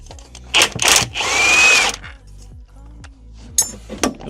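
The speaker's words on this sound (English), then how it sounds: "remove the bolts from the front with my power tool" A power drill removes bolts from a Mini Cooper S Cabrio rear subframe in short whirring bursts, with metallic clinks and rattles between the runs, close and loud.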